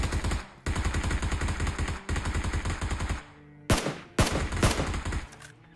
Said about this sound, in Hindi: अब यहाँ एक बंदे ने फायर करके हमको रोकने की कोशिश करी।